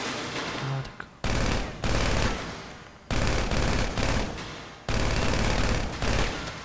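Submachine gun fired in GTA V in three long sustained bursts of rapid, dense automatic fire, loud and close, separated by brief pauses.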